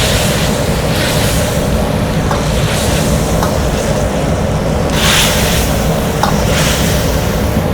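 Aubergine and minced pork simmer in a soy-based sauce, giving a steady, close bubbling hiss with faint pops that runs unbroken throughout, with no voices.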